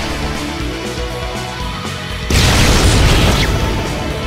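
A loud gunshot-like boom from the video game Shin Megami Tensei IV Apocalypse cuts in partway through, followed by a sustained crackling burst over a steady background of game music.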